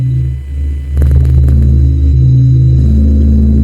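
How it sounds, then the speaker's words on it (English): A loud, deep, droning rumble with slowly shifting low tones and faint crackling, steady and eerie throughout: the sun's magnetic field and plasma rendered as sound. "what you're hearing is the magnetic field and the plasma just running wild"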